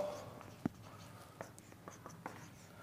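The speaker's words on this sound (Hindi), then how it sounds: "अब अपना फार्मूला लिखेंगे" Pen on paper while a maths formula is written out for a matrix word problem, a quiet scratching with several light taps and strokes spread irregularly across the moment.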